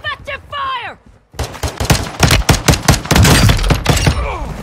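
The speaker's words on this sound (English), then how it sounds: "Taking effective fire." Rapid bursts of close, loud gunfire in Call of Duty Warzone 2, a brief lull, then a sustained volley of sharp shots, with voices talking over the start and end.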